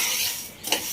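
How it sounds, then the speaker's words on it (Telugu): Horse gram roasting in a drop of oil in a pan, with a soft hiss and a quick scrape of a spoon stirring the dry lentils toward the end. "ఒక సుక్క ఆయిల్ వేసుకొని దోరగా వేయించుకుందాం"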